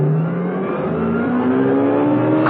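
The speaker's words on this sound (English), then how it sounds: "She made for her car, climbed in, started, reversed, and was," A car engine runs steadily and rises in pitch as the vehicle pulls away from a car park, a loud continuous close-up drone with no talk.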